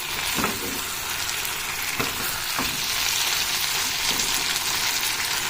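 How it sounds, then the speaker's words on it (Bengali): Meat sizzles and fries steadily in a pan for a homemade birthday meal, a dense constant crackle close by, broken by a few soft knocks of stirring. "নিজের জন্মদিনের মাংস নিজেই মানে রান্না করছি"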